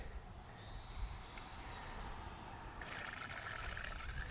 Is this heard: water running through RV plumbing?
yes